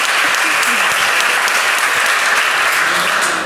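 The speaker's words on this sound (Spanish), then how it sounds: "Bueno, también aplauso" Audience applause fills a talk at an SEO event, steady dense clapping from a large crowd, loud and close, holding evenly throughout with no voices over it.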